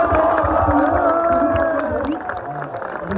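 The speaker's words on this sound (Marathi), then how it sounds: "आपले पोलीस बांधव आहेत त्यांच्यासाठी जोरदार टाळ्या वाजवा।" A large crowd claps and cheers loudly for the police at a public gathering, a dense continuous wash of applause and shouts that tapers slightly toward the end.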